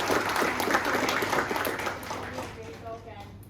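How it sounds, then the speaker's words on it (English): Applause rises from the audience at a React and JavaScript developer meetup, a fairly soft, dense wash of clapping that gradually thins and fades toward the end, with a voice talking faintly over it. "let's have a huge round of applause for him"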